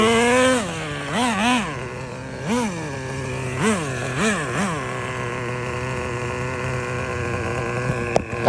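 A nitro-powered Rustler RC car with a 2.5 engine runs close by, buzzing at a high idle with repeated short throttle blips that rise and fall in pitch, then settles into a steady drone.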